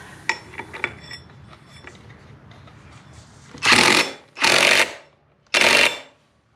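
An electric impact gun tightens the variator nuts on a Honda ADV 150 scooter in three loud rattling bursts of about a second each, close up, after some light clinks of tool handling.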